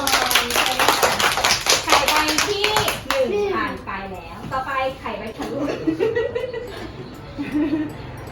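Young children in a preschool classroom clap their hands together in a quick burst of several seconds, followed by children's voices talking and laughing nearby.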